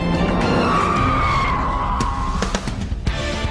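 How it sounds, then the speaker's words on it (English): A Bugatti Veyron brakes hard from very high speed to a standstill, tires squealing in a long falling whine over road and engine roar, ending with a few knocks. "it can brake from this speed to a standstill in less than 10 seconds"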